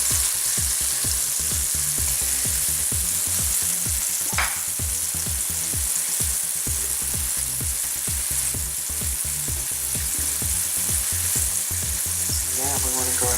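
A large, very tender tenderized Salisbury steak patty sizzles loudly and steadily in a hot pan, with a continuous close frying hiss and regular crackling pops throughout and no talk.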